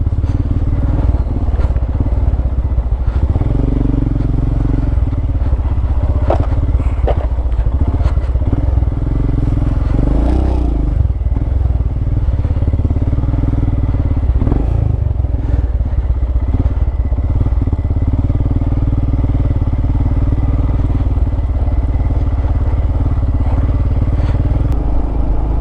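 A motorcycle with a knocking fault is ridden fast. Its engine drones steadily and loudly throughout, with rattling clatter and wind rumble over it, and faint voices now and then.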